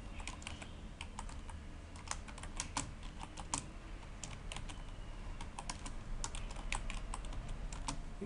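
Steady typing on a computer keyboard, with irregular bursts of clicking keystrokes throughout, close and fairly quiet over a low background hum, with no voices.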